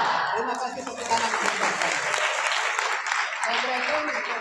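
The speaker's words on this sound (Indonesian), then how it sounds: "Terima kasih tepuk tangan." Audience at a school event held at an Islamic senior high school in Jombang, clapping in a broad continuous wash, with voices and crowd noise mixed through it.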